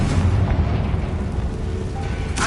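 A Confringo blasting spell bursts in a Harry Potter wizarding video game, a dense, loud, sustained roar of explosive noise lasting a couple of seconds with a sharper crack near the end.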